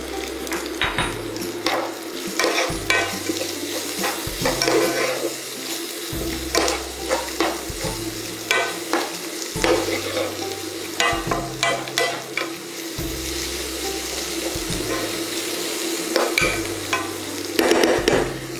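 Spinach cooks down in a frying pan with nutmeg, fresh turmeric and ginger, a spoon stirring it in regular scraping strokes over a gentle sizzle, close and steady with no talk.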